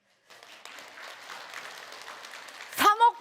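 An audience at a business seminar breaking into applause that swells from sparse claps to a steady wash, with a voice speaking over the end.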